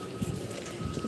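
Rain falling on a rooftop during Cyclone Remal's storm: a brief, fairly faint, steady patter of drops mixed with wind.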